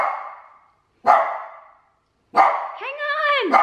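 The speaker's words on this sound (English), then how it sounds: "Whoa, the puppies want to play." Puppies barking in short playful bursts indoors during Christmas decorating, three separate yaps with gaps between them, the last rising into a drawn-out whiny, yelping bark, close and fairly loud.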